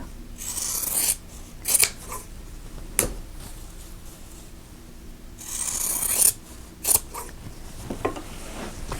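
Scissors trimming fabric pieces for a quilt block, with several crisp snipping cuts in two bursts separated by quieter rustling and handling of the fabric, close up and without talk.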